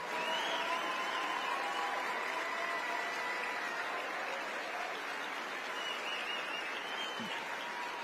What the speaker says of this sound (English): Give my wife a round of applause.